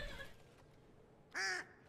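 A single short, nasal quack from a duck in the video game Midnight Ghost Hunt, loud and clear against faint background hum after a brief quieter call.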